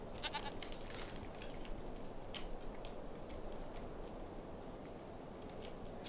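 Goats bleating in the farming video game Farming Simulator 25, several short, faint bleats scattered over the first few seconds above a steady low ambient background, with no voices.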